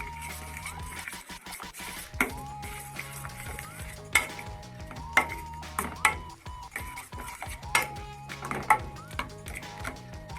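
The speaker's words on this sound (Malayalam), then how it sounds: "അത് ആഡ് ചെയ്ത് നന്നായിട്ടൊന്ന് ഇളക്കി കൊടുക്കാം." A spoon stirs pulissery, a yogurt curry made with ash gourd, in a pot, giving repeated clinks and scrapes against the metal at a steady pace, with sustained tones running underneath.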